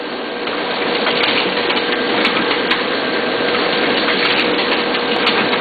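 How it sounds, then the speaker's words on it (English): A Duplo DC10000s twin-tower booklet maker runs a set of signatures, giving a loud, steady mechanical whir with faint repeated ticks throughout and no talking. "Now that's the set going into the booklet maker"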